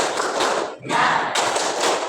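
A classroom group does a rhythmic clapping ice-breaker chant, with loud, close bursts of hand claps in quick patterns and a short pause partway through.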